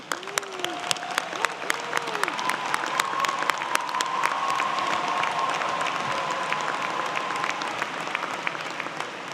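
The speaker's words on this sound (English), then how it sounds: "Candidates for Bachelor of Science degrees in the Ivan Allen College of Liberal Arts, please rise and cheer." Graduating bachelor's candidates of Georgia Tech's Ivan Allen College of Liberal Arts rise at a spring commencement in a large hall, sustained crowd applause with scattered cheers and whoops swelling and holding for several seconds.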